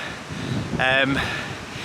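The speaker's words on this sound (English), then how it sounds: "You can hear it's really windy as well today" Strong gusting wind on a mountain trail buffets the microphone as a steady broadband roar, with a brief voice rising over it partway through.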